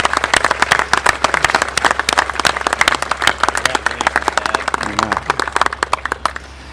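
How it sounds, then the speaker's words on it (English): A graduation crowd at Perry Technical Institute applauds the graduates, loud, crisp individual claps in a quick irregular rhythm over a low hum, thinning out and stopping near the end. "So let's give those guys a big round of applause."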